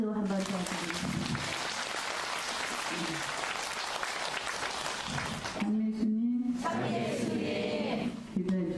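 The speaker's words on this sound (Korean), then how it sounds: "큰 박수 한번 더 드립니다." A church congregation gives sustained, dense applause after a nun's sermon. The clapping runs continuously, and a voice speaks over it near the end.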